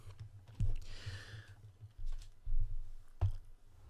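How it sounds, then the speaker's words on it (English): A computer keyboard falls and clatters in a few clattery knocks and clicks, fairly close, with a quiet pause between the impacts. "And I dropped my keyboard."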